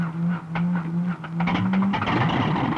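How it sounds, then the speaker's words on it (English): Light aircraft piston engine cranking on its starter with brakes held, a steady low drone with a string of sharp firing bursts that thicken into a rougher, louder running roar toward the end. "Lift the guard on the starter switch and hold the starter engaged"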